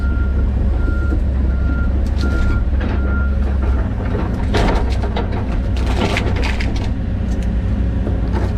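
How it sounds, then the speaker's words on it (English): Gravel trucks reverse near an excavator at a work site, their backup alarms beeping in a regular repeating pattern over a loud diesel rumble, with scattered cracks and clatter of material toward the end. "we're trying to work between these gravel trucks."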